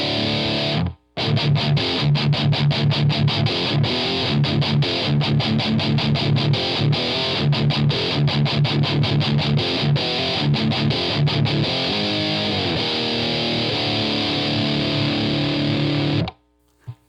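Electric guitar driven through a Boss Metal Zone distortion pedal into a Strymon Iridium amp and cab simulator, playing loud, heavily distorted rhythmic chugs and sustained chords for about fifteen seconds after a brief pause near the start.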